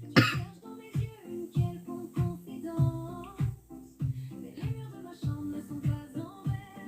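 A woman coughs repeatedly in short harsh bursts while doing her makeup, the coughs close and steady over several seconds with a faint tonal background beneath.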